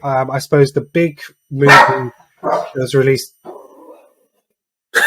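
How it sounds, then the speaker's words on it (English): A pet dog barks unhappily somewhere in a home while someone talks close to the microphone. The short barks are mixed in under and between his speech. "Oh, someone's dog's not happy."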